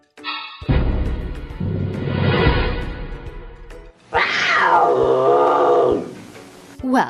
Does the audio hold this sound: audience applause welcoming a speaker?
no